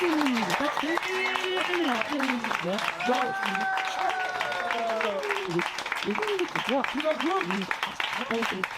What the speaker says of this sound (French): Et en grand tonnerre d'applaudissements, n'est-ce pas, pour tous les improvisateurs ce soir.